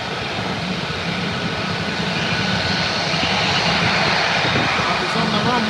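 A military jet aircraft on the runway at RAF Lakenheath produces a loud, steady broadband roar that fills the whole stretch, rising slightly toward the end, with speech faintly mixed in.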